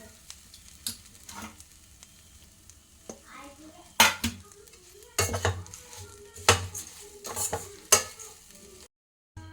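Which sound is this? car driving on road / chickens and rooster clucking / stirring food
stirring food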